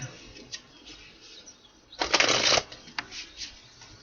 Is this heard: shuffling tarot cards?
yes